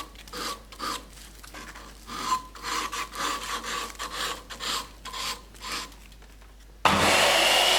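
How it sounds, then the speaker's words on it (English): Fine sandpaper rubs over the sharp edges of a small wooden breech block made for cleaning an underlever air rifle, a close rhythmic back-and-forth rasping of short strokes, followed by a sudden louder broadband roar at the end. "Then take a fine piece of sandpaper and clean up all the sharp edges."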